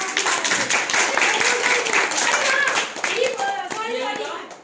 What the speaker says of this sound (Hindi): उनकी टीम से मिली जोरदार तालियां